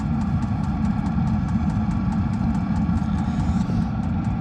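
A cheap Chinese diesel heater running inside a camper van conversion, a steady low rumbling drone with faint regular ticking, constant and moderately loud throughout, no speech.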